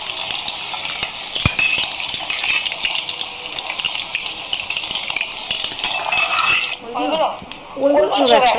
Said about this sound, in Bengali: তেল দিলাম, আলু দিয়ে ভেজে নেব।